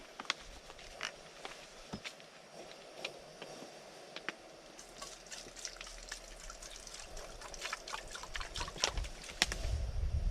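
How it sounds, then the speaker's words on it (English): Water trickles and splashes steadily into a Trangia camping stove pot in a forest, with small clinks and drips throughout, growing a bit louder toward the end. "Put some water in the pot."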